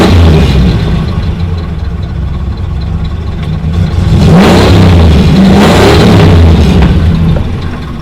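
A Ford Thunderbird engine just out of storage and running on a weak battery, loud and close, idling roughly and then revving up in a couple of swelling pushes before easing back down.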